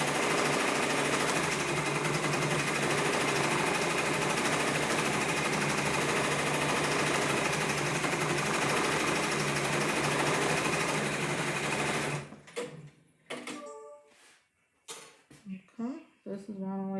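An embroidery machine stitching appliqué onto a shirt, making a steady, loud, rapid mechanical whir that runs continuously, then stops abruptly, followed by a few brief clunks and faint talking.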